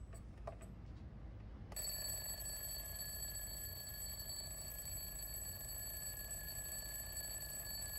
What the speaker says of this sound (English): Every morning, I set an alarm, so I replaced it with an old-fashioned alarm clock.